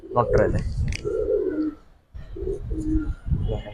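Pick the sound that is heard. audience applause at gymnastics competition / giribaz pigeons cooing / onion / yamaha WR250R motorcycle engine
giribaz pigeons cooing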